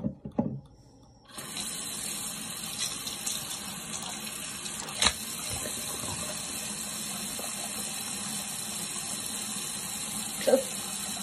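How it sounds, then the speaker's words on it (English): A bathroom sink faucet runs steadily while a face is wetted, starting after a brief quiet moment and continuing as a constant close gush with a couple of small knocks and splashes. "first things first is you want to wash, wet your face."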